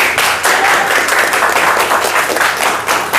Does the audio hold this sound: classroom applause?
yes